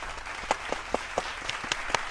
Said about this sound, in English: Can we get a round of applause for episode 3?